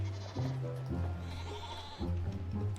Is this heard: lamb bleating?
yes